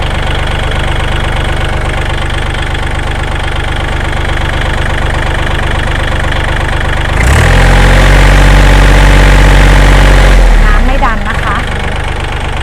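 A 2019 Kubota L4018 tractor with front blade and three-disc plough idles loudly close up with a steady knocking diesel rumble, then briefly swells into a deeper, heavier roar for a few seconds before settling back to idle.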